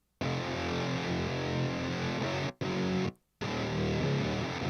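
Synthesized guitar sounds played on a keyboard and soloed in a mix: dense, distorted sustained chords that cut off briefly twice before resuming, loud and alone.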